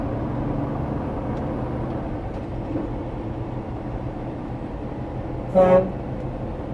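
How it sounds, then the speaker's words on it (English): A Peterbilt 389 truck, fitted with train horns mounted underneath, gives one short, loud blast near the end over a steady low engine rumble. "it's got a regular train horns underneath, but didn't come with roof mounted horns"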